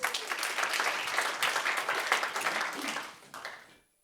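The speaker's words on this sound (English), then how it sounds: "So please applause, Julien." Applause from a conference audience for a presenter, a dense patter of many hands that swells and holds, then thins out and fades to silence near the end.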